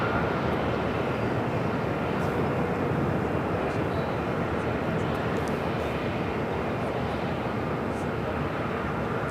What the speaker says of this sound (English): Just had Virgin Atlantic Flight 7 coming in from London Heathrow, arriving here on the south side.